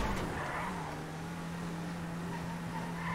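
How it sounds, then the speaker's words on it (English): A car engine in the video game GTA V hums at a steady low idle, moderately close and fairly quiet, with no talking over it. "I hear him getting out of his car as well."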